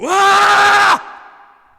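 A man screams alone inside his car: a single loud, sustained, strained yell lasting about a second, cut off abruptly and followed by a short fading reverberation.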